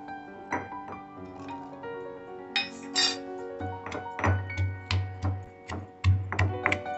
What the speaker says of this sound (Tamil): நான் அந்த பூண்டை உரல்ல போட்டு இடிச்சுக்க போறேங்க